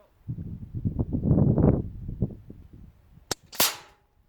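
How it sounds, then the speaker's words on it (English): A single sharp crack from a pre-charged air rifle, a Weihrauch HW100BP or Daystate Renegade, fired outdoors, comes near the end after rustling and handling noise, close and brief. "I think this could be my last shot."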